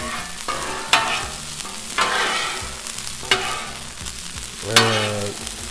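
Garlic and vegetables fry on a Blackstone griddle for shrimp fried rice, a steady close sizzle with a few louder scraping stirs and spatula strokes spaced about a second apart.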